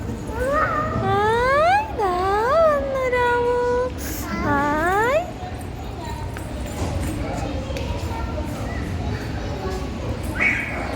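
A pet cat gives several drawn-out, rising-and-falling meows in quick succession close by, then falls quiet while people talk.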